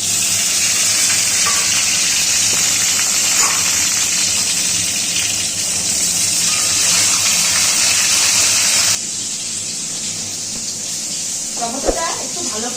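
Tomatoes dropped into hot oil set off a loud, rushing sizzle that roars steadily, then eases to a quieter hiss, with a voice speaking briefly toward the end.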